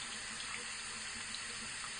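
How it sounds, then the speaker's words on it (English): Tap water runs steadily from a faucet over a can of compressed air held under the stream, a constant close, even rushing with no pauses. "just take your can and just, set it under the water"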